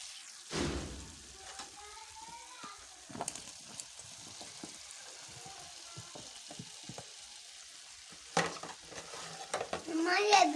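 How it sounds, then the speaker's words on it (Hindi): Potatoes being stirred into a frying masala for potato karahi, a steady low sizzle with scattered spoon scrapes and clanks against the pan, louder stirring bursts near the end. "अब हम इसमें आलू शामिल करेंगे।"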